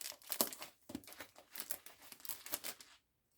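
Adhesive tape pulled and crinkled by hand, a run of short close crackling tears and rustles over about three seconds, then silence.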